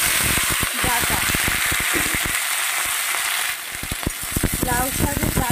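Potatoes and bottle-gourd leaf stalks fry in hot oil with a continuous loud sizzle and crackle, broken by sharp spatters and stirring clicks.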